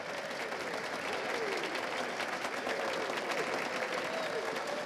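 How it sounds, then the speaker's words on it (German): Steady applause fills the hall from an audience at a German eSports event, continuous and fairly distant, with general crowd noise mixed in. "Einen großen Applaus!"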